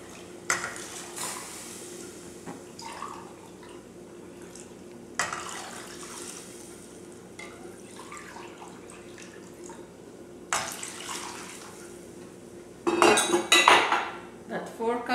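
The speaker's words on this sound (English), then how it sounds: "I'm going to be adding 4 cups of water." Water poured into a pot of rice in a home kitchen, a steady faint stream with scattered clinks of pots and utensils, ending in louder splashing and clatter.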